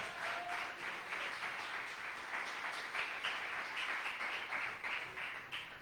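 Congregation clapping during a Spanish-language church sermon, a soft, even patter of many hands heard from a distance and holding steady throughout, with no voices over it.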